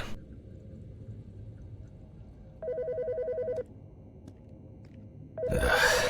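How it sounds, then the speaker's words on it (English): A phone rings in the game Autopsy Simulator: two clear electronic ring bursts, each about a second long and separated by quiet room tone. The second ring overlaps a louder rustling sound, and no one speaks. "The fucking phone."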